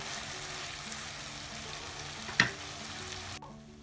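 Beef tripe fries with Kashmiri chili in a pan, a low, steady sizzle with one sharp clack of a utensil as it is stirred, fading abruptly near the end.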